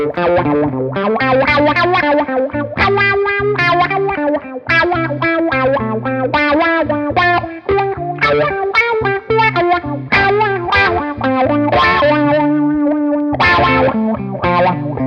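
Distorted electric guitar plays a busy riff through a Vox V846 wah pedal rocked in eighth notes, the tone sweeping rapidly open and closed in quick, even pulses, loud and continuous throughout.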